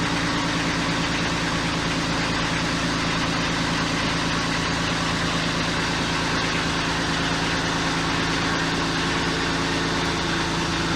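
A tractor engine idles steadily nearby with a low, continuous rumble and even throb, no voices over it.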